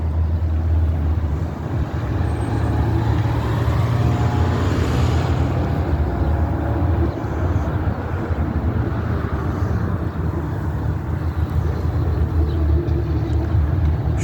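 Cars and trucks pass through a street intersection in a steady, continuous low rumble of traffic, with wind buffeting the microphone throughout and no one talking.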